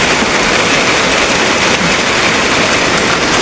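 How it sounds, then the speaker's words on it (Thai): Heavy rain pours down in a dense, unbroken hiss, loud and close, with no pauses or voices over the full stretch. "ฝนตกอย่างแรง"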